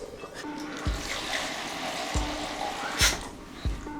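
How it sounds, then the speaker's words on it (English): A small amount of water trickles into an Adémé soup mixture, a soft, continuous pouring and splashing close by, punctuated by a few sharp knocks. "I'm adding just a bit of water, and then I am now mixing it"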